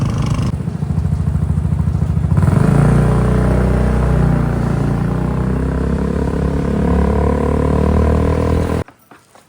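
A motorcycle engine runs steadily nearby, with a low rumbling idle that rises in revs after a couple of seconds, then cuts off abruptly near the end.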